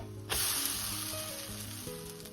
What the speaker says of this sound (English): now I'll just drop spoonfuls of the batter onto my griddle